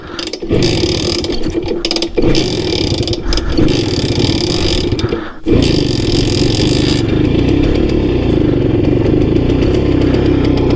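A Simson S51 moped being started, engine sputtering and catching unevenly through a few brief stumbles before settling into a loud, steady close-up running drone.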